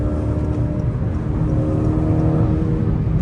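Honda Accord 2.0T fitted with a Borla cat-back exhaust, heard from inside the cabin as a steady, loud high-RPM engine hum and rev with no talking.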